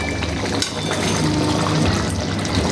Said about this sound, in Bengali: তো আমি বাটিটা দিয়ে অল্প একটু জল দিলাম